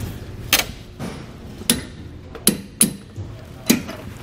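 Sharp metallic hammer blows on a bolt driving a bushing into a Dexter heavy-duty tandem-axle trailer suspension, about seven spaced, irregular strikes, close and fairly loud with quiet gaps between.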